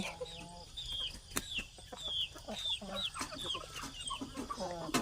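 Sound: chicken clucking

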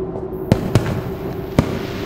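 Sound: fireworks in the video game Dark Deception

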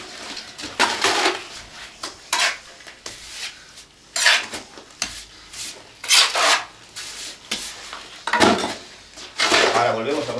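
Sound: straightedge screed scraping over sand and lime plaster

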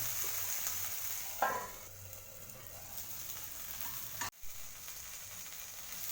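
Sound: stirring chili and okra in an iron pan

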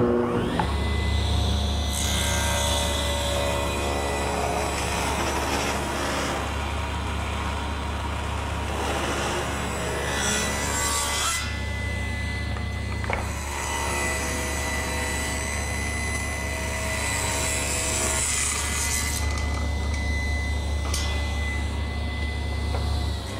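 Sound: saw ripping thin strips off cherry wood

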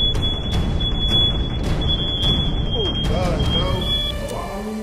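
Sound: smoke alarm going off from burnt bacon

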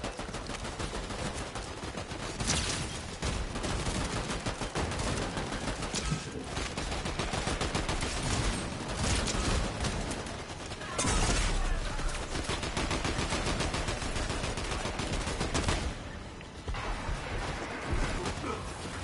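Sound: shotgun gunfire in the video game Fortnite

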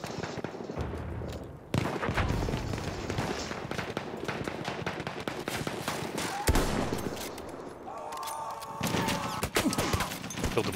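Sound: gunfire from video game Battlefield 1, revolver

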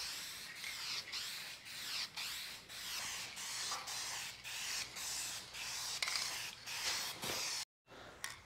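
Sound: spray paint can spraying a coat on a car

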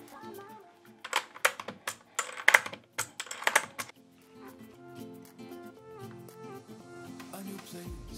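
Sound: removing keycaps and switches from mechanical keyboard

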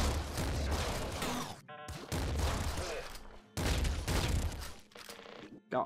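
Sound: weapon firing in video game Nuclear Throne

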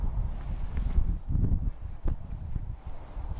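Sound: wind blowing on sand dunes

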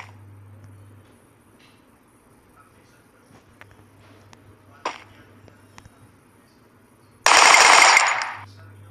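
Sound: gunfire in the video game Free Fire

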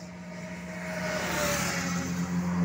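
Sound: motorcycle and car passing on road

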